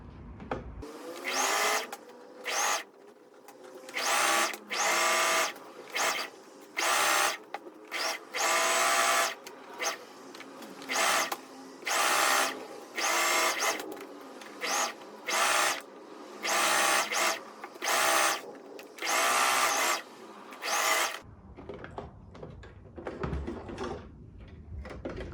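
A sewing machine running a regular straight stitch in short, fast mechanical bursts with pauses between them, close and clear for about twenty seconds before a quieter tail of handling noise.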